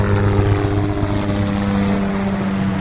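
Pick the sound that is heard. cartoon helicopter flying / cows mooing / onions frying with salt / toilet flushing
cartoon helicopter flying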